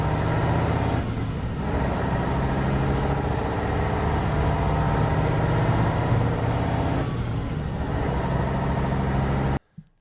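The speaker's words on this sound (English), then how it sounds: "that engine sounds amazing" A Tatra 815 dump truck engine runs loud and steady from the driver's seat, a deep continuous drone that holds under load for nearly the whole stretch before cutting off abruptly at the end.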